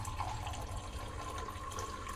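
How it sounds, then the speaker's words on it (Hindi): Water is poured into a pressure cooker while making corn idli, a faint, steady splashing trickle with no voices. "थोड़ा और पानी ऐड कर दो"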